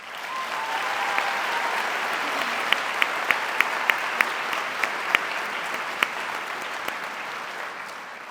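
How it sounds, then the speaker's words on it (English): Steady, sustained audience applause for students at a CTAE Student of the Year ceremony, a dense wash of clapping with a few sharper individual claps standing out partway through. "So I'd really like to give them another round of applause."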